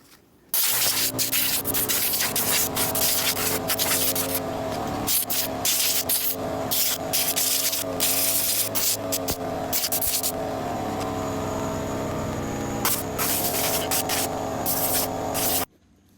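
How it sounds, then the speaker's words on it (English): Loud, close hiss of an air compressor blowing dust out of a PC, a continuous rushing blast of about fifteen seconds that pulses and sputters as the nozzle moves, with a clattering rattle underneath. "now I'm just gonna blow it out with the air compressor"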